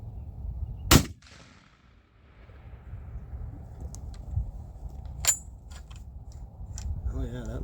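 A Geha 12 gauge shotgun fires a single black powder shell, one sharp loud boom near the start, followed by a quieter stretch with faint clicks and handling noises.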